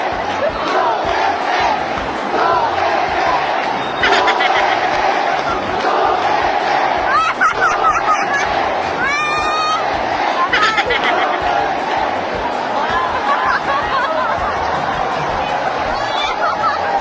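A large political rally crowd in the Philippines loudly chanting in unison, a dense, continuous roar of massed voices with cheering swelling through it, close and sustained.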